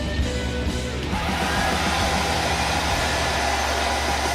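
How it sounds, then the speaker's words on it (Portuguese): A handheld hair dryer is switched on during metallographic sample preparation and runs steadily, a loud, continuous broadband whoosh with a low motor hum, blowing to dry off alcohol from a polished metal specimen. "secador de cabelo, o secador"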